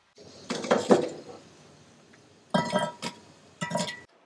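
Cast iron Dutch oven lid being placed over tri-tip on a bed of onions; several sharp metallic clanks and clinks in separate bursts, close and fairly loud, with quiet gaps between.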